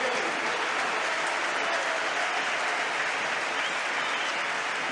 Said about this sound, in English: healthy applause for Arturo Vidal.